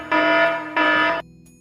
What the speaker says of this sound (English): An 18th century fire alarm you had to strike with a hammer to alert the...